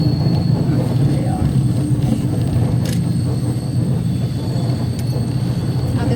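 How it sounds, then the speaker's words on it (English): Train riding along the Panama Canal railway, a steady loud rumble of wheels and carriage running on for the whole stretch, with a faint high squeal near the middle. "The train only needs 55 minutes for the ride"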